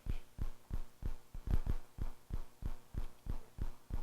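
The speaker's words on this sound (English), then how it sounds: "I hear a heartbeat." A rapid heartbeat thumps during a radio show: steady, evenly spaced low pulses, some in close pairs, repeating about twice a second with no talking over them.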